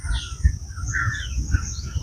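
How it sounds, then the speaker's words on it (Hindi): Bird calling among lotus plants at Nawabganj Bird Sanctuary, a few high chirping notes repeating over a low outdoor rumble, moderately faint and without talk. "एक पक्षी।"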